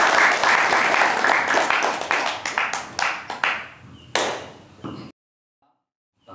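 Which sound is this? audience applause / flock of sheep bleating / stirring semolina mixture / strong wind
audience applause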